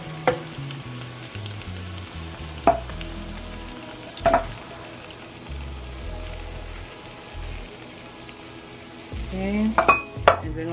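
Two 15-ounce cans of diced tomatoes go into a sizzling pot of chili, with clanks of metal against the pot, scraping and stirring, and a steady low sizzle throughout.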